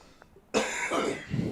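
A man coughs hard several times in quick succession, loud and close, after a brief quiet moment, with rough throat-clearing texture between the bursts.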